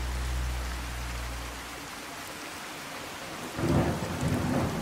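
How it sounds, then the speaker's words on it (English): Steady rain falling in a stormy Fallout 4 game world, with a deep rumble of thunder at the start and a louder crack of thunder near the end, heard alone with no talk. "It's probably annoying for you guys to watch with the constant rain sound"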